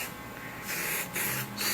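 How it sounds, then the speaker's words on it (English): Short hissing bursts of aerosol clear coat sprayed onto scrap wood, three quick puffs close by, with no voices. "spray a little bit of clear coat on it"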